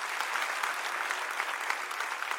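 Church congregation clapping loudly together, a dense, sustained burst of applause close by with no talk over it.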